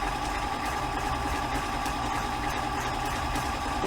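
A sewing machine runs at full speed stitching a decorative scallop-edge stitch, giving a fast, even mechanical whir with a rapid, regular chatter close by.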